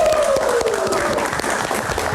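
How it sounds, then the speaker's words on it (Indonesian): Studio audience applauding at the close of a late-night Indonesian talk show, sustained dense clapping throughout, with a faint tone sliding downward underneath. "Kita berikan tepuk tangan sekali lagi untuk Mas Umam."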